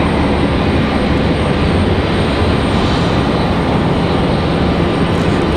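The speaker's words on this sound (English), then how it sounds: "We got Republic Airways 3625 coming in from Washington Dulles." A Republic Airways Embraer E175LR arriving from Washington Dulles at Raleigh-Durham airport, a loud, steady, broadband engine roar that holds constant throughout.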